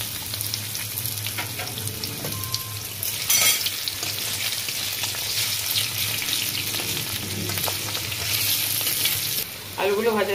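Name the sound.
potatoes frying in oil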